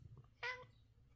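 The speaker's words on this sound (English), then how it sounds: "he meows a lot when I pet him" A house cat gives a single short, clear meow at close range in a quiet room, with faint low background hum around it.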